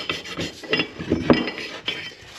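Sharpening stone scrubbing leftover gasket material off the engine surface of a Kawasaki Prairie 400, a quick series of short gritty rubbing strokes, close and moderately loud.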